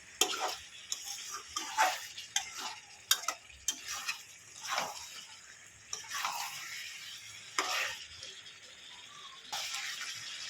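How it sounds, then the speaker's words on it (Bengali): Chicken curry sautés in a pan, an intermittent scrape-and-clatter of a spatula stirring over a quiet sizzle, with irregular knocks spread throughout and no talking. "এটাকে ভালো করে একটু কষিয়ে নেব"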